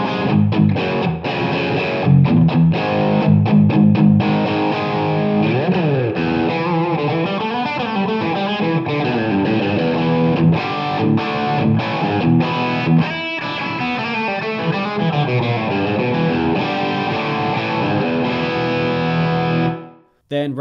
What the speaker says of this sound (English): I've got a bit more gain dialed in here, so it's acting more as a sort of distortion.